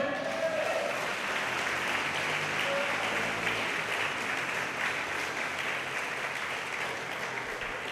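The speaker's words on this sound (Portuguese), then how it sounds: "dá um aplauso a Ele" A church congregation applauds during a sermon, a sustained, even wash of clapping from many hands at moderate distance, with faint voices mixed in.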